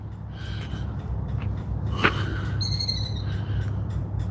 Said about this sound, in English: It's one of the little noisy little birds.